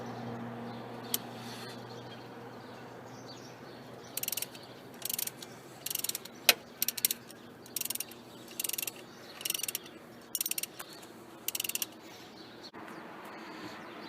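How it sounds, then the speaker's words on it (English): A half-inch ratchet clicks in short bursts, undoing bolts on a Holden Commodore water pump. The clicking repeats close by over a low steady background hum. "The 1/2 inch ratchet only just got to that bolt there."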